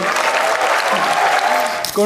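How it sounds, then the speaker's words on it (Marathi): Audience at a Marathi stand-up comedy crowd-work show breaks into sustained, dense applause that fills the whole stretch at close range, ending abruptly as a voice starts speaking. "एकदा टाळ्या वाजवायसाठी"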